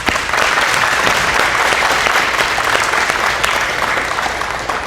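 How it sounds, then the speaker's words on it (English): A big round of applause from the crowd at a high school military oath of enlistment ceremony, dense sustained clapping from many hands, loud and even for the full five seconds. "I just want to give everybody here a big round of applause"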